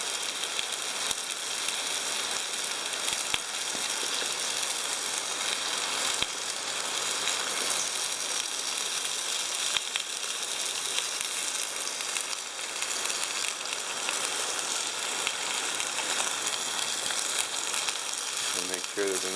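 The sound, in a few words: pot stickers (gyoza) frying in a Trangia pot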